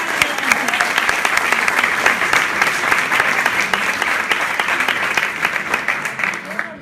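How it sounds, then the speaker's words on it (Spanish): Audience applause at a training seminar, dense lively clapping with scattered sharper claps and faint voices mixed in, sustained at moderate-to-loud level across the whole stretch. "Un fuerte aplauso."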